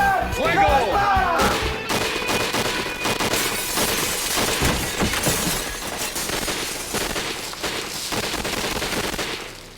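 Dense gunfire in a shootout, rapid volleys and bursts rattling continuously with breaking and shattering crashes mixed in, loud and close, while voices shout over the chaos.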